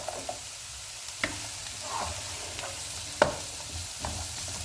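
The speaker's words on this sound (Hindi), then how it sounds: "बंद गोभी और गाजर डालेंगे। इनको हम 1 मिनट तक फ्राई करेंगे।" Cabbage and carrots frying in a pan for fried rice, a soft steady sizzle broken by a few sharp utensil knocks and stirring scrapes, fairly quiet and close with no talking.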